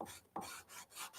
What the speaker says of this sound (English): finish sanding a body or a contour like this